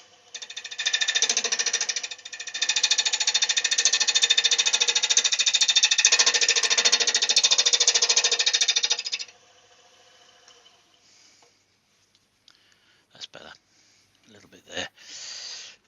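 A bowl gouge cuts wood on a lathe while a candlestick is being turned, a loud, steady, buzzing chatter for several seconds that stops abruptly and leaves a few scattered knocks and a short voice.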